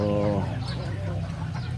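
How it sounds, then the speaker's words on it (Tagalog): Native chickens in a backyard farm give a short, nasal cluck at the start, followed by a busy, muffled farmyard background. "para magpakain po ng ating mga alaga mga native chicken at ating mga bibe"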